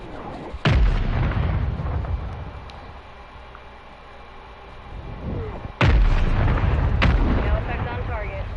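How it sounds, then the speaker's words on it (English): Mortar strike explosions in the video game Warzone: two heavy booms, the first early and a later one followed by a third close blast, each loud and sharp with a rumbling decay. "Mortar strike inbound."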